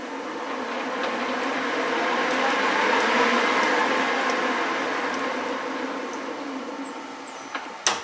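A lathe motor in a home machine shop runs steadily after an aluminium cam switch is set to run, a broad continuous hum and whir holding level for several seconds before a couple of sharp clicks near the end.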